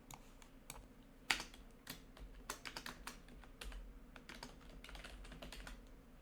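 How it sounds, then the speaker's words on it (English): Fingers type a name on a computer keyboard in a rapid run of close, crisp key clicks, with one louder keystroke near the start and an uneven burst rhythm over quiet room tone. "Type in Alexander Skarsgård."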